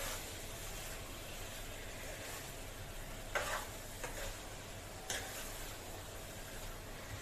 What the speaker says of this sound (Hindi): भुनने में 20 मिनट लगेगा क्योंकि 1 किलो चिकन है ना